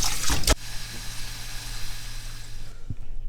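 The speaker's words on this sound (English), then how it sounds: "Fill this up with water for about 5 minutes." Steady broadband rush of running tap water filling a pot, preceded by a brief louder splash at the start, with a small clunk near the end.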